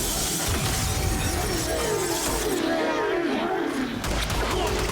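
Glass-encased enemies shattering in the Warframe video game, a loud continuous crash of breaking glass and roaring impact noise layered with game effects, no talk heard.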